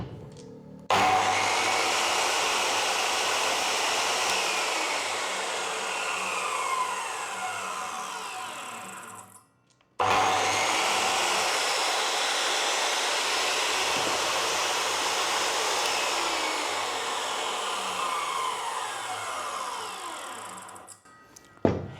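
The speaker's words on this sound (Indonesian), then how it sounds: "kira-kira circular saw segede ini seperti apa suara raungannya" A Dongcheng DMY02 circular saw spins up and runs free at a loud, steady whine, winds down into silence, then starts again for a second long run before stopping with a click.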